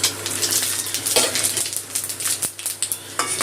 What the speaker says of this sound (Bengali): ফোড়নটা একটু তেলে ভেজে নেব